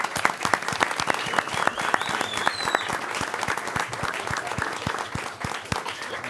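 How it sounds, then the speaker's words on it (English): Applause from a village board meeting audience for the Bulldog Lacrosse teams. The clapping is dense and continuous, close and fairly loud, with no speech over it. "if we could just give them a round of applause"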